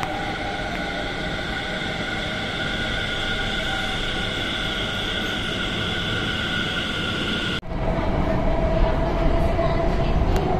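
A Delhi metro train rumbles steadily with broad noise and tonal hum, then a sharp shift as it changes pace, continuing loud and close.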